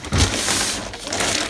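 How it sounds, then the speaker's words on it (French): Close, brief crinkling and crushing of Shein plastic packaging, a rough rustle that lasts about a second and a half with no talking over it. "Ah mais c'est peut-être avec l'emballage,"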